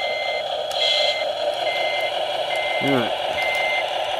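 A Tamiya RC truck with trailer reverses, its beeper giving steady evenly spaced electronic beeps close by while someone talks.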